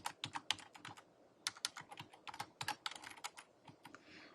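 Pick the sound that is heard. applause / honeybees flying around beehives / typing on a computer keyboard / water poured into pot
typing on a computer keyboard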